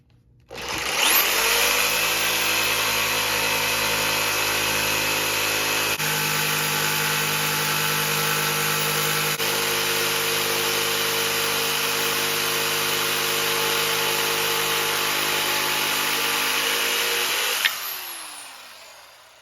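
A power tool spins up and runs for about seventeen seconds while cutting a station buck, a steady loud whining motor tone with a grinding edge before winding down and stopping.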